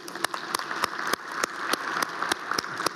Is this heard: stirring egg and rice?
no